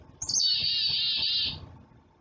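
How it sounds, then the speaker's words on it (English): A black-capped chickadee gives a single clear, high whistled call lasting over a second, close and isolated against a quiet background. "That is right there, the black-capped chickadee."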